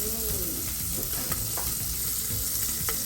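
Bacon frying in a pan without oil for Brazilian tripe stew (dobradinha), a steady, dense close-up sizzle with a few faint stirring clicks and no talking.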